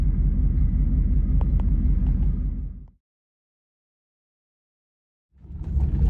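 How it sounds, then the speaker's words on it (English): A car fitted with custom dual exhaust pipes rumbles loudly with a deep engine note, then cuts to silence for a couple of seconds before the heavy exhaust roar returns as it pulls away. "I'm gonna give y'all a preview of what the pipes sound like when I take off and when I go"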